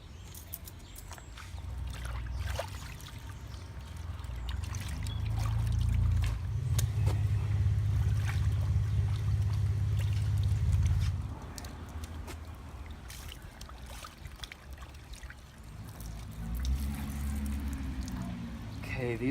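Tanned raccoon hides are sloshed and rinsed in water, with a long stretch of low churning and splashing and softer trickling and dripping around it, close by and without talk.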